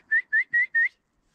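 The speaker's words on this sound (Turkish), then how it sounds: "Neyse videoda ıslık sesi çıkar şimdi." Four short, bright whistles in quick even succession, clear and close, followed by silence.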